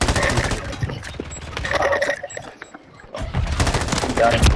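Bursts of rapid video game gunfire crackle in dense volleys, with a short lull midway before the shooting resumes, while players talk over the action.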